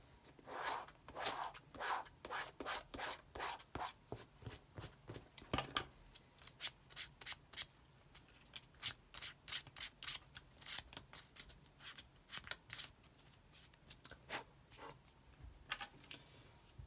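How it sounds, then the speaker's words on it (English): Hand sanding of skate shoe surfaces before gluing, a close series of quick dry scratchy strokes in uneven bursts with brief pauses. "So all I have to do now is to just sand the two surfaces."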